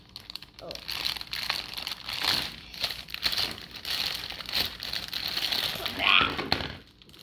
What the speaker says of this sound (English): That's not a pull apart, you gotta rip it open.